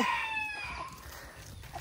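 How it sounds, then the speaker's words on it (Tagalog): A rooster crows outdoors on a rural property, a single fairly near call with a clear harmonic rise fading out over about two seconds against light background noise. "Ayun, tandang na lang."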